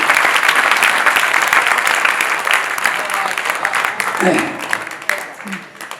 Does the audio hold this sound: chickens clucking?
no